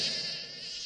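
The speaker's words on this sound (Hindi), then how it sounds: "एक मक्खी है।" Cartoon fly buzzing in a Shinchan animated episode, a steady high, whining drone heard close and alone, holding without a break for its whole length.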